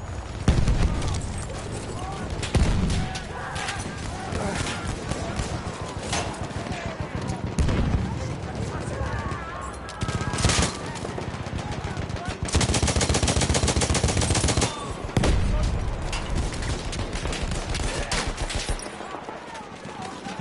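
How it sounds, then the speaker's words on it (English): Battlefield 1 gunfire crackles in dense, rapid bursts with machine-gun rattles and heavier booms, loud and continuous, with voices talking over the shooting. "Where are we getting shot up from?"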